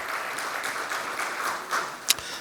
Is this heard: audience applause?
yes